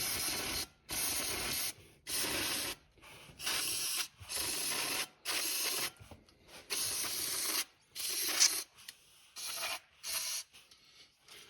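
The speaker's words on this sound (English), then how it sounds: "Give them a little spritz of brake cleaner." Repeated short bursts of aerosol brake cleaner sprayed onto parts during cooling system work on a 1969 Buick Skylark, about ten close, hissing spritzes with brief gaps between them, no talking.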